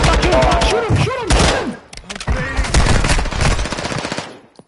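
Loud rapid gunfire from a video game, bursts of fast repeated shots with sweeping whooshes and a brief gap midway, close and dense, with a voice mixed in.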